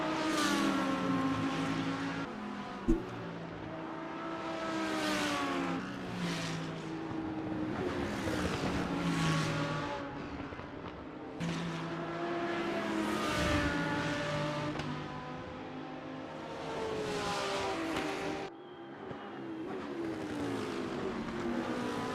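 GT race cars at Paul Ricard in the GT World Challenge scream past continuously, with engines repeatedly rising and falling through gear changes and braking zones, loud and unbroken, with no voices.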